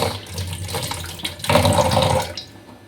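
Cold water runs from a kitchen tap, a steady splashing gush that swells louder midway and then eases, heard close and alone with no talk over it.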